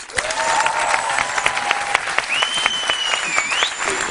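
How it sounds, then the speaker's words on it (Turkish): A studio audience at a Turkish entertainment show claps loudly and steadily to welcome a guest clarinetist, with a few sharp whistles cutting through the dense, continuous applause. "bir alkış"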